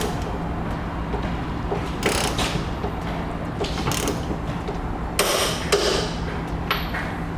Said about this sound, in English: we're gonna come back with a torque wrench and a 3/4 inch socket, and we're gonna torque all the hardware down